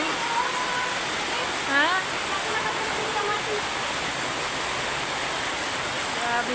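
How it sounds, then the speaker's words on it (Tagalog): Floodwater rushes in a steady, loud, unbroken roar, with a person's voice speaking briefly over it. "Oh, grabe baha."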